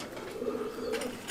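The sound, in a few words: Madrasi Kalpoti pigeon cooing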